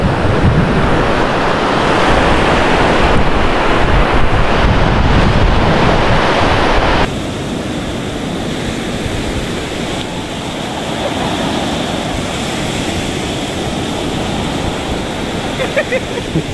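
Sea waves break on a beach in Goa with a loud, continuous roar and wash of surf close by. Wind buffets the microphone, and the surf level drops slightly partway through.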